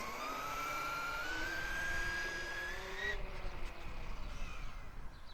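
A brushless Traxxas Summit RC truck on a speed run gives off a loud motor whine that rises steadily in pitch as it accelerates, then cuts off abruptly into rougher rumbling noise as it passes and slows.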